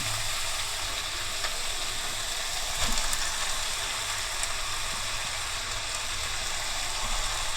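Street-style chowmein noodles stir-fried in a small wok with half-cooked vegetables, giving a steady, close sizzle and crackle of frying throughout with faint scraping stirs and no talking.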